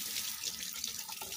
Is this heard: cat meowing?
no